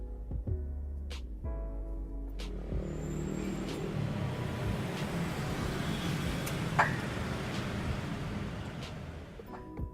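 A Toyota Calya car climbs a hill at gentle throttle, its engine a steady, moderate drone with low rumble and a few faint clicks and knocks along the way.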